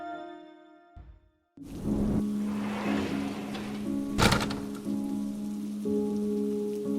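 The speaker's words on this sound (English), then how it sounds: "It's raining again." Steady rain pours down outside a gas station at night, a dense close hiss of drops on surfaces, broken by a brief thump and a short louder spatter near the middle.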